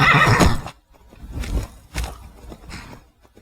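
A horse in Skyrim whinnies loudly, followed by a few softer snorts and hoof sounds in short bursts with pauses between.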